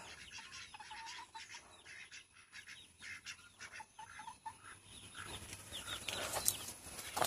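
Backyard chickens, with a hen pecking at her chicks, give soft clucks and peeps amid faint rustling; the birds sound close but quiet, growing a little busier toward the end.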